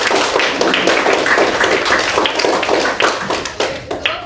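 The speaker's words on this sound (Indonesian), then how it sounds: "Tepuk tangan untuk Gek Rara." A classroom of primary school pupils clapping their hands together in a loud, dense, steady burst of rapid claps that carries on for several seconds, close by and without talk.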